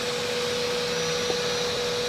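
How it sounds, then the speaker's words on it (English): A pond vacuum runs continuously nearby, a loud, steady motor whine over broad rushing suction noise, with no talking. "Sorry about the noise of the pond vac"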